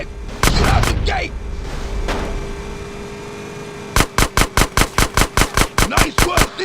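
Gunfire in the video game GTA San Andreas, shooting out a sewer gate: a heavy blast and rumble early, then a steady burst of about a dozen loud, evenly spaced shots toward the end.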